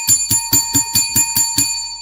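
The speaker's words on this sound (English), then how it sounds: "Let's ring the bell" A bright metallic bell rings about eight times in a quick, steady rhythm, loud and close, with a sustained ringing tone between strikes.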